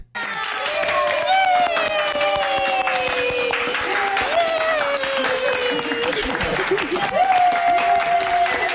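Audience applause for a dog, heard as steady loud clapping that runs the full length alongside overlapping voices and tonal sounds.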